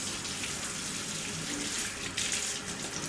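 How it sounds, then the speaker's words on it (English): Hands being washed with soap and rinsed down to the arms under a running tap during an aseptic surgical scrub, a steady close gush of water splashing without pause. "I'm just washing my hands with normal soap very quickly, making sure not to touch any surfaces, and I'm always rinsing down my arms"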